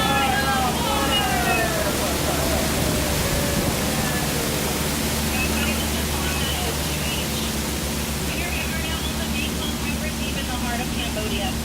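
Broad rushing roar of a waterfall on the Jungle Cruise ride, constant and loud throughout, with a faint voice and scattered background sounds mixed in.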